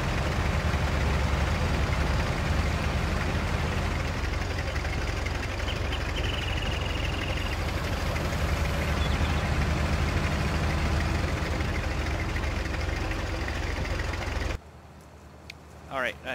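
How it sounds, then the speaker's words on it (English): Steady low engine drone of a tractor idling in a farming simulator game, continuous and fairly loud for most of the stretch before cutting off abruptly near the end. "Chintzy tractor, but I mean it works."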